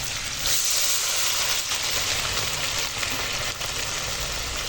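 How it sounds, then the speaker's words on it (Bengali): Potatoes and tomatoes frying together in a pan with salt, a loud, continuous close sizzle with a hissing wash that barely varies, no one talking over it. "আলু আর টমেটো একসঙ্গে তো ভাজি আর নুন দিয়ে দিয়েছি"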